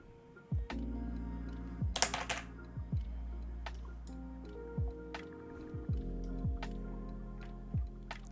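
Computer keyboard clacking on its own with no one at it, a run of irregular close keystrokes and a few louder taps over a faint background hum.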